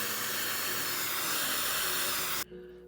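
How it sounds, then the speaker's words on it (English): A hair dryer on cool air blows with a steady, loud rushing hiss for over two seconds, then cuts off abruptly. "make sure y'all blow dry it on cool air."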